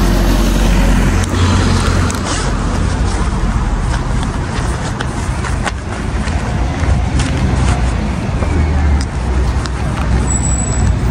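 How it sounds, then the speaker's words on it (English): A bus pulls up at a stop outside a UK hospital amid a continuous rumble of engine and road traffic, with faint voices and street noise mixed in. "The bus is here."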